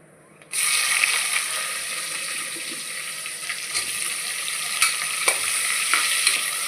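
Onions dropped into hot oil with cumin seeds burst into a loud, close, steady sizzle after a brief quiet start, with occasional stirring scrapes and clicks and no talking.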